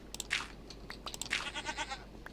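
A Minecraft goat bleats twice in a row, each cry short and nasal, heard over faint background game sounds and no talk.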